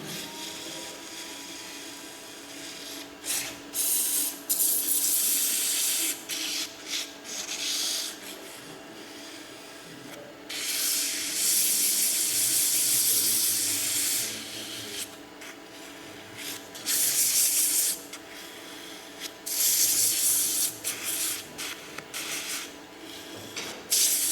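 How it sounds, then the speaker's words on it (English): A wood lathe runs slowly in reverse while 220-grit sandpaper is held against the spinning piece, making a steady hum under long, loud bursts of harsh, hissing abrasion that start and stop repeatedly, with no voices. "I'm going to slow down my lathe and I'm going to put it on reverse, because that's the best way for me to sand."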